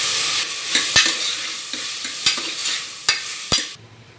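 Onions frying in a pan with potatoes and spices added, a steady broadband sizzle broken by several sharp stirring clacks of a spoon against the pan, close and alone, with the sizzle dropping off at the end.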